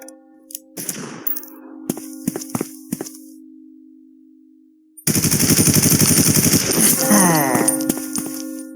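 Machine gun fire in the gangster strategy game Omerta: City of Gangsters, a rapid continuous burst of loud metallic shots lasting several seconds after quieter clicks and clanks, with no talk over it.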